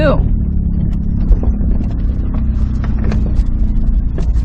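A 2000 Nissan Sentra on a test drive gives a loud, steady low engine rumble heard from inside the car, with a few light clicks and rattles and some talk.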